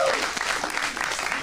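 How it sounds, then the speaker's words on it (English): An audience at a live improv comedy show in Phoenix gives a brief burst of steady, dense clapping, with a voice briefly audible at the very start. "Can we get a round of applause for Ida and Nicole?"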